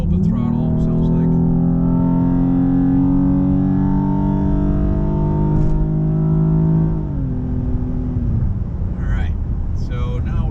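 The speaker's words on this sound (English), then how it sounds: "we have a little more induction noise under wide open throttle than normal" A Ford Explorer with an MRT Sport Touring axle-back exhaust and cold air intake pulling at wide open throttle on the highway, a loud steady interior drone with rising engine tone, then a shift and easing.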